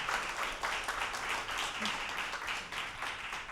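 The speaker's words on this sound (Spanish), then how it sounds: "Aplaude al Señor si deseas." A church congregation claps to praise the Lord during a sermon, a steady, moderately quiet wash of many hands applauding throughout, with a faint voice underneath.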